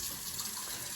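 Water from a tap rushes steadily into a container for a moment, a close, continuous hiss and gush with no speech.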